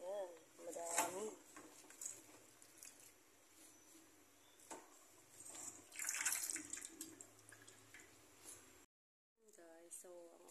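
Running water splashes faintly as sweet potato leaves are rinsed, a soft uneven wash that comes and goes, with a voice talking over it and a brief silent gap near the end.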